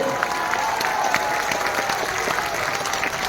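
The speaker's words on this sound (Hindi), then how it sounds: "अरे जोर से ताली बजाओ लखनलाल के लिए।" A large crowd at a public rally in the Ghantaghar open auditorium in Korba applauds, producing a dense, continuous roar of clapping that stays loud and even throughout.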